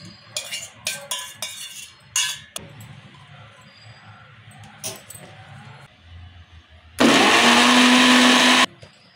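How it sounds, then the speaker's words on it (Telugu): An electric blender grinds boiled tamarind into a smooth paste, a loud, dense whirring roar that runs for about two seconds near the end, after scattered clinks and handling knocks. "ఇప్పుడు చింతపండు రుబ్బుకుందాము"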